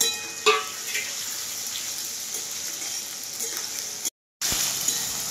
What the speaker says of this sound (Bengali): এই টমেটোটা দিবার পরে চারটা কাঁচা লঙ্কা দিচ্ছি, কাটা আছে চারটা কাঁচা লঙ্কা।